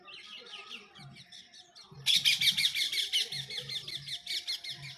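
Birds chirping around a house and in banana trees in quick repeated bursts, several calls overlapping and growing louder midway, with faint background noise beneath.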